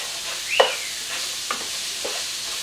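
Onions fry in extra virgin olive oil with a soft, even sizzle, broken by a few sharp utensil taps and scrapes in the pan.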